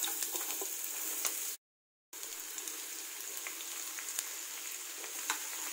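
Split green chili and beetroot frying in hot oil for a Bengali beet fry, a bright continuous crackling sizzle with scattered pops, briefly cut to silence partway through.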